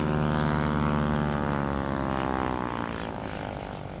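Airliner with rear-mounted engines at Paine Field, a steady, loud jet roar with a droning, harmonic-rich tone that holds for several seconds and eases slightly toward the end.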